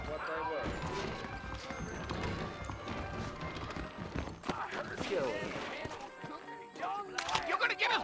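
Horse hooves clip-clopping in Red Dead Redemption video game, a steady trotting patter mixed with game sounds, faint and under frequent talking.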